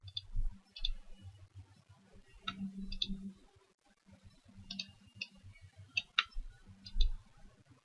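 Computer mouse clicks, sharp and close, sounding singly and in quick pairs scattered across a quiet room with faint low background murmur.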